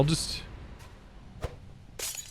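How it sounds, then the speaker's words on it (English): Glass blocks shattering in the modded Minecraft pack DawnCraft, a bright crunch at the start and another burst near the end with a softer crack between, heard under low game ambience. "We'll break the glass."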